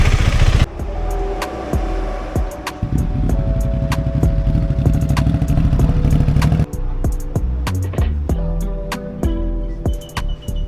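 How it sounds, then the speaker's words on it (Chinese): KTM and Husqvarna motorcycles on a group road trip in Taiwan start up and ride off from a rest stop, engines idling, revving and pulling away with loud, overlapping bursts that rise and fade. "大家又继续发动引擎往东部出发"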